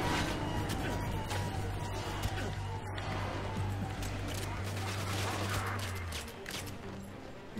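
Gunfire in a first-person shooter video game, with repeated sharp shots and bursts scattered across a busy game soundscape, mixed under a steady low hum and a voice talking.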